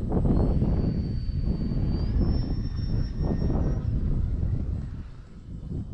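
An E-flite Valiant 1.3m RC plane takes off and flies, a steady electric motor whine with a rising tone over heavy outdoor wind buffeting, fairly close and continuous.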